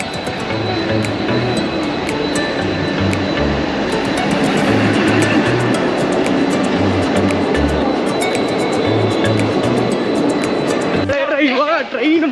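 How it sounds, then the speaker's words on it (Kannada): A train pulls into a station on a budget day trip, making a loud, steady rumble with low rhythmic thuds of wheels over rail joints, and voices talking over it until the noise drops off near the end. "ಸೊ ಟ್ರೈನ್ ಬಂತಂತ ಕಾಣಿಸುತ್ತೆ ನೋಡ್ಬೋದು ಅಲ್ಲಿ"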